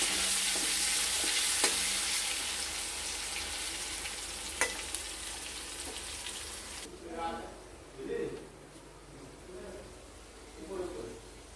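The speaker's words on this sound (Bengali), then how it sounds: "দিয়ে দিলাম সামান্য পরিমাণে হলুদ গুঁড়ো দিয়ে এটাকে নাড়াচাড়া করে নিয়ে আমরা এটাকে ভালো মতো করে ভেজে নেব" Sizzling fry in a pan with salt and turmeric, a loud steady hiss for about seven seconds, then softer frying under a voice speaking with occasional stirring scrapes.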